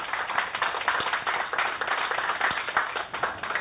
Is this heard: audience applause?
yes